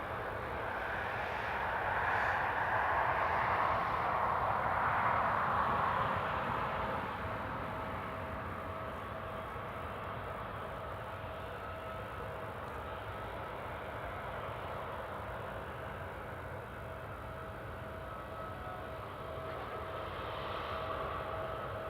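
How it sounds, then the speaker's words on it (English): A Freebird Airlines Airbus A320 taxiing at Newcastle Airport, heard as a steady, fairly distant jet engine rumble and whine that swells briefly early on, then holds even and continuous with no talk. "You can just start to make the outline out of the Freebird A320 as it's taxiing closer to the"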